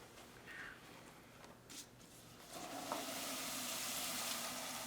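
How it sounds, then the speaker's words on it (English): Liquid nitrogen boils and hisses as cold flowers are dipped into it during a physics demonstration, a soft fizz that swells into a steady loud seething roar after a couple of seconds. "You can hear the boiling."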